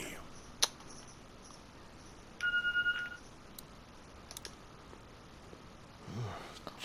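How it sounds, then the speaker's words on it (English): A phone rings faintly in a quiet room, a short burst of rapid electronic pulses lasting under a second amid low background hiss and scattered small noises. "I heard something ringing."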